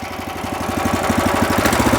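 A WEIMA walk-behind tractor engine revs up, its steady chugging pulse quickening and growing slightly louder, close by with no talk.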